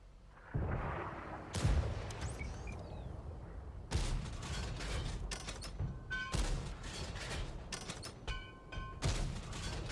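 Tank gun fire in a video game: a series of heavy booming shots spaced a few seconds apart, each a sharp loud blast with a short rumbling tail, over a continuous low mechanical hum and creaking.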